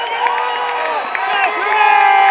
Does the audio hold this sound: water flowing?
no